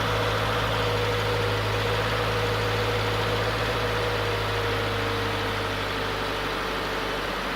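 A 2015 Subaru Forester engine idling just after an oil change, a steady low rumble with constant hum, running alone without voices for the whole stretch.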